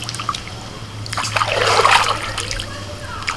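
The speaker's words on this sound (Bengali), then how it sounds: "শাকেতে প্রচুর মাটি আছে মানে শাকের গোড়াগুলোতে সেজন্য একটু ভালো করে ধুয়ে নিচ্ছি গোড়া শাকগুলো" Muddy leafy greens being rinsed in water, a short trickling and splashing swell that builds and fades over a few seconds, close by with no talking.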